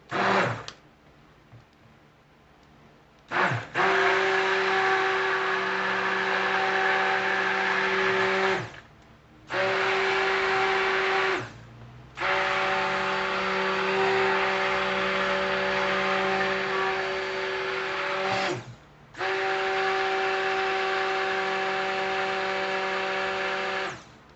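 A blender whirs loudly in several long bursts separated by short pauses, a steady motor drone running through thick soap batter.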